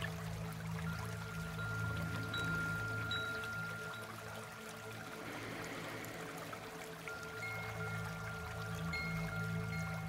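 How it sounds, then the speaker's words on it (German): Steady flowing, pouring water runs continuously as a sound effect in a German children's bedtime audio story, a soft even stream with faint tonal hums beneath and no speech. "Niemand kann das Wasser aufhalten, wenn es fließt."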